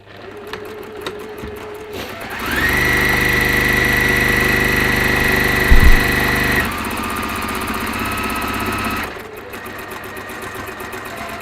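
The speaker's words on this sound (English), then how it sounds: "the very loud sound of my sewing machine because I'm going quite fast" A sewing machine runs fast and loud in a steady, sustained whir for several seconds, with a slower motor hum before and after the main burst of stitching.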